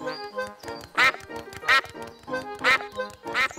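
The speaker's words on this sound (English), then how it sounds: "It's Mrs. Duck and her friends." Cartoon ducks in a Peppa Pig episode quack in a lively run of about four loud, nasal quacks spaced roughly evenly, with softer chatter and sound effects between them.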